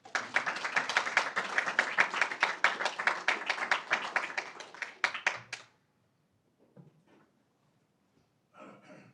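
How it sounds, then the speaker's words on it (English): A small group at a city council meeting claps steadily for about five seconds, loud and close, then the applause stops abruptly, leaving near silence with faint shuffles. "give him a round of applause"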